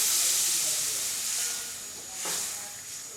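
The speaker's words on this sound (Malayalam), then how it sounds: "ഇനി നമുക്കിതിലേക്ക് ഗ്രേവിക്ക് ആവശ്യമായ 1/2 കപ്പ് വെള്ളവും കൂടി ഒഴിച്ചു കൊടുക്കാം." Half a cup of water poured into a hot spice masala for an egg roast gravy sets off a loud hissing sizzle that slowly fades, then surges briefly again, with no talk.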